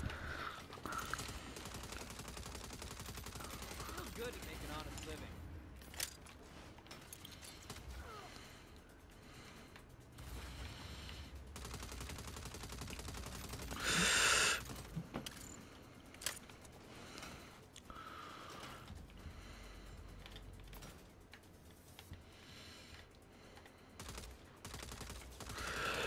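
Video game gunfire in Saints Row, scattered bursts and single shots amid mechanical clatter and ambient game noise, fairly quiet overall with one louder spike midway, while a player talks intermittently.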